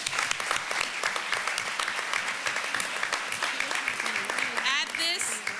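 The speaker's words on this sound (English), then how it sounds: "That deserves a round of applause." Dense audience applause at a school board meeting in Newark, a loud continuous patter of many hands with voices rising over it toward the end.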